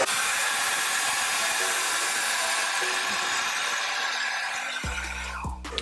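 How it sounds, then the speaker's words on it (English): A blow dryer runs on its highest heat and highest airflow setting while used with a vent brush on hair, giving a loud, steady, close rushing hiss before it cuts off near the end. "I am using my highest setting of heat with my highest setting of flow on the blow dryer"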